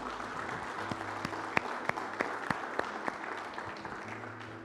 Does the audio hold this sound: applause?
yes